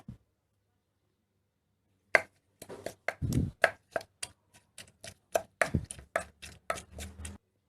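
Boiled chilies pounded with a pestle in a mortar for a Thai chili paste with makok, a steady series of about fifteen close, solid thuds after a short quiet start.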